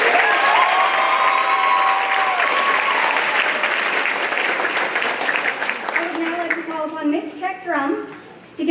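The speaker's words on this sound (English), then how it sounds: "Let's give a big round of applause for all of our grade 10 nominees." Audience at a school awards night applauding grade 10 nominees, a dense loud wash of clapping that thins and tapers toward the end, with a voice speaking over it as it fades.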